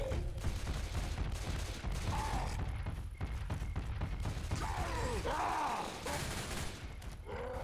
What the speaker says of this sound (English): now they're shooting him